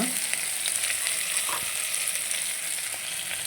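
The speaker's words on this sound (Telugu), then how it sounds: "ఇదే ఆయిల్లో మనం ఆనియన్స్ కూడా ఫ్రై చేసుకోవాలి" Onions and green chillies fry in hot oil, a close, continuous sizzle with occasional soft taps of a spoon stirring, and no voices.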